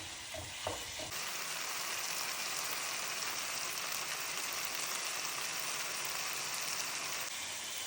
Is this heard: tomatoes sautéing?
yes